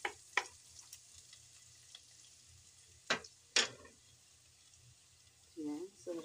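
Ginger browning in a pan gives off a faint, low sizzle, broken by a few sharp utensil clicks, and a voice speaks briefly near the end.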